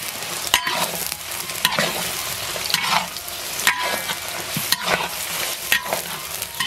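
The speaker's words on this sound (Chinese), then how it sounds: "把姜焯软，炒出姜味。" Old ginger pieces stir-fried in hot oil in a wok, a steady crackling sizzle broken by periodic scrapes and clacks of the spatula against the pan, close and fairly loud with no talking.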